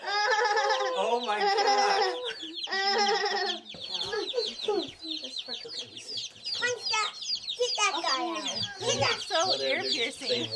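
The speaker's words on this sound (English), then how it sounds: "There's 25 chickens in there? Listen to the sound." Loud, dense clucking and squawking from about 25 chickens close by in an enclosure, overlapping calls with sharp piercing cries, nearly continuous for the whole stretch.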